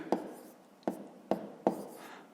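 A pen writes numbers by hand on paper during a fifth-grade maths exercise, four short scratchy strokes spaced irregularly, close and quiet, with no talking.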